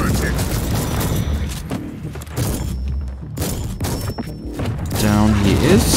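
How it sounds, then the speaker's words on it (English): Shotgun fire in Warhammer 40,000: Inquisitor, with a rapid run of heavy, punchy blasts and thuds layered over dense combat clatter, loud and close throughout. "That's why I again really love the shotgun."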